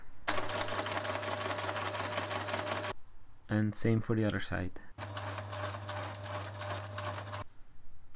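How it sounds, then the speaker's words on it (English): A sewing machine stitches underwear fabric into a watch band in two loud steady motorized runs, a brief pause between them where a person speaks. "With the sewing machine or needle and thread we close it here."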